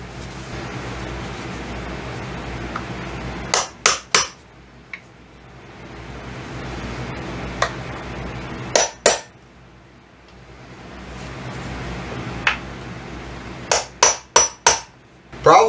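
Hammer blows drive unset nails into window casing moulding, coming in quick clusters of sharp metallic taps separated by pauses, loud and close.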